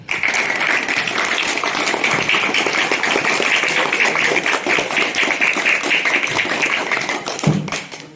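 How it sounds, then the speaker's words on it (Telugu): An audience claps for school staff at a teachers' felicitation and farewell event, a dense, even burst of applause lasting about seven seconds before it fades out. "నగులు స్టాఫ్ అందరికి ఒకసారి గట్టిగా నా తరఫున చప్పట్లు కొట్టాలి"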